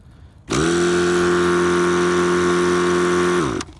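A 90-size nitro RC helicopter engine is bumped over to prime fuel, starting abruptly with a loud, steady mechanical whir that holds for about three seconds before cutting off, with no talk.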